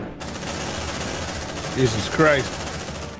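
Continuous automatic gunfire rattles at the alien queen in the Aliens: Dark Descent video game, a dense steady barrage with a man's brief startled exclamation near the middle.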